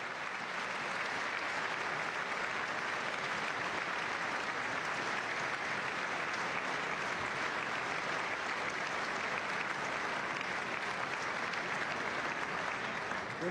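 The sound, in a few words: audience applause during State of the Union address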